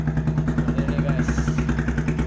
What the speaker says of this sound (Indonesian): kita mau tes nih DR15V2 2015 suaranya seperti apa